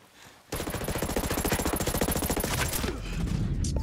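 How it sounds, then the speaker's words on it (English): Enemy gunfire in Ghost Recon Breakpoint: a sharp start gives way to a rapid, steady burst of automatic shots for about two and a half seconds, loud and near, trailing into a rumbling wash afterward. "I'm hearing enemy fire."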